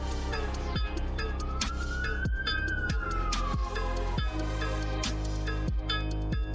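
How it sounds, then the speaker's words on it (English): A short siren-like tone rises and then falls over a pounding beat with heavy bass hits in a busy music track. "I really like that little siren sound."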